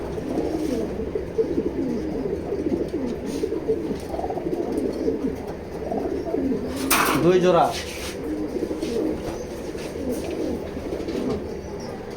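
Grizzle pigeons coo in a loft, soft repeated throaty calls mixed with rustling and a brief clatter near the middle, while someone talks over them throughout.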